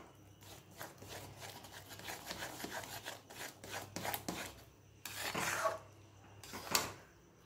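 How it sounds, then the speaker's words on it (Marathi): Gram flour is stirred into vegetables in a kadhai held steady on low heat, giving quiet, close scraping and rubbing strokes in an irregular rhythm, with a couple of sharper clanks near the end. "हे जे बेसन पीठ आहे ते या भाजीमध्ये व्यवस्थित असं मिक्स करून घ्यायचं आहे"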